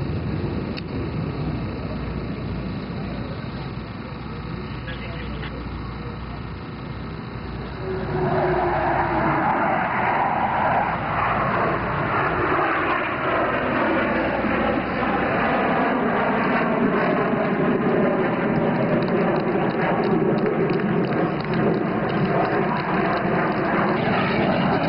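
Blue Angels F/A-18 jets at an air show, a loud broad jet roar that swells sharply after a quieter opening and then holds steady, sweeping as the aircraft pass.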